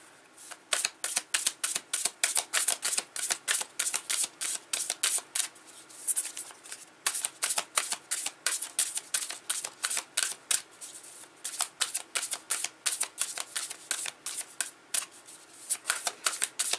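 Tarot cards being shuffled by hand in quick rapid riffles, a long run of crisp flicking bursts with brief pauses between rounds, close and clear with no voices.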